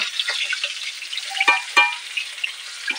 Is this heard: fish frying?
yes